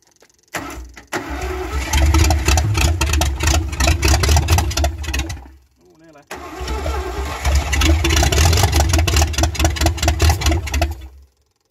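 A Rover P6 3500S, started for the first time in 15 years after sitting in a scrapyard, cranks and catches. It revs loudly and roughly near the listener, cuts out briefly, then restarts and runs rough and loud again.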